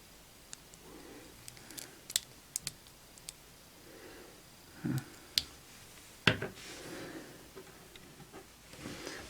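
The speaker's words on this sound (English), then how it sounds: "you can fit the fingers in here and open and close the card slot" Small plastic clicks and snaps from opening and closing the card slot on an S.H.Figuarts Masked Rider Ryuki Survive action figure, scattered quiet taps spread across a near-silent room.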